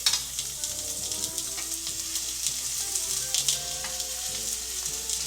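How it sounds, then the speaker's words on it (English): Steady, close sizzling of fish frying in a hot cast iron pan, a dense crackling hiss that holds for several seconds with faint clinks of tongs. "So we're gonna go ahead and grab our tongs, put our fish in. You hear that nice sizzle right there."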